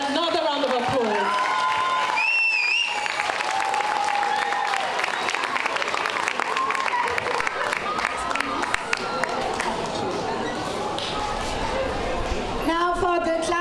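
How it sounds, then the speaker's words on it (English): A school audience gives loud, sustained applause and cheers for students after their Macbeth performance, a thick crowd roar with voices and whistle-like whoops rising above it, fading slightly toward the end. "Can we give these students another round of applause?"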